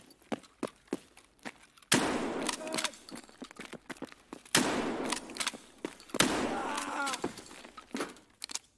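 Gunfire in Escape From Tarkov, a series of sharp, loud shots and bursts with some distant pops and scattered footstep-like thuds between them, mixed with brief game noises.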